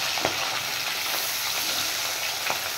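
Fish frying lightly in oil, with a dense, even sizzle heard up close and a few sharper pops rising over it, with no voices.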